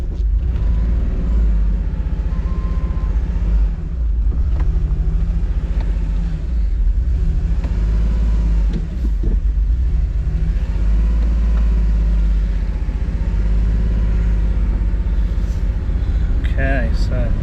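A car engine hums and rumbles steadily at low speed for the whole stretch, a smooth, gentle drive with no hard acceleration.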